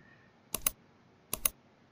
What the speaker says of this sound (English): Now hit the 3 keys at the same time.